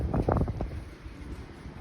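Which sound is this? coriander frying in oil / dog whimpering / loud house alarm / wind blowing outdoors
wind blowing outdoors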